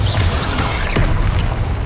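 Bombarda explosion spell going off in Hogwarts Legacy, a loud, rumbling blast with crashing, mechanical debris textures sustained for nearly two seconds.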